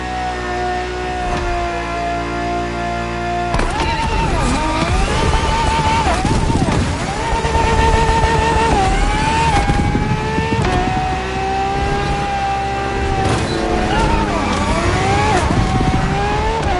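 Ferrari FXX K track supercar in the racing game The Crew Motorfest, its engine roaring loudly and continuously while the revs rise and fall through gear changes, close and full without pause.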